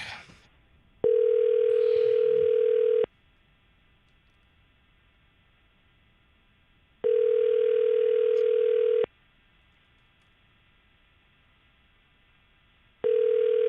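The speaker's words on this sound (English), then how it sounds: "I think it's ringing now." A telephone ringback tone sounds on an outgoing call, repeating steady two-second electronic tones separated by roughly four-second silences, loud and clear with no talk over it.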